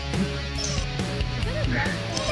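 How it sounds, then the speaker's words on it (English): A dog plays with a cheap squeaky dog toy, giving several short, rubbery honking squeaks close by over a busy background of voices. "That's a dog toy that's making that sound."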